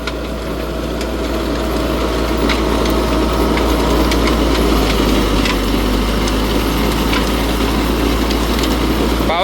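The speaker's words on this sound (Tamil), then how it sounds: "பவர் மூடில் 1800 இன்ஜின் RPMல பார்த்தீங்கன்னா ஓடிட்டு இருக்குதுங்க." A Sonalika Tiger 75 CRDi tractor drives a rotavator mulching a banana field in power mode at about 1800 engine rpm, a loud, steady diesel drone with continuous rattling and churning from the implement throughout.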